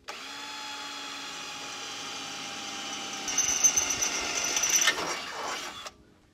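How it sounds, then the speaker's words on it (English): A hole is drilled in a tractor bracket, a steady mid-level whine from the power drill that turns coarser and grindier as the bit bites, then stops abruptly. "I'm going to mark that hole and drill it."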